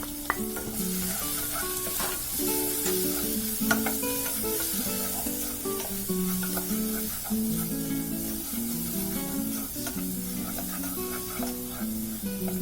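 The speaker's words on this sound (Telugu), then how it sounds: "కొద్దిగా ఫ్రై అయిన తర్వాత 2 minutes ఫ్రై చేసుకున్నాము." Spices for a chickpea spinach curry fry in a pan, a loud continuous sizzle with stirring scrapes layered through it, close and steady with no talking.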